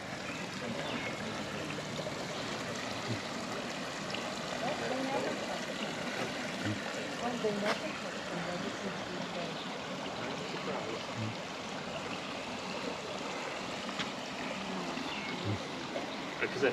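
Water trickling and splashing steadily in a garden water feature, recirculated up from a pond among lilies and planters, a continuous close-by flow with faint voices underneath.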